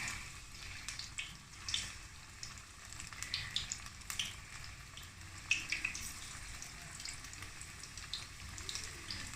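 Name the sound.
pakora batter frying in oil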